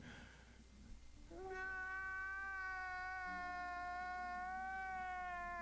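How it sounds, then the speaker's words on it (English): One long, drawn-out meow rises and holds steady for several seconds over a low background hum, like a sound-effect cat. "Someone let go of that cat."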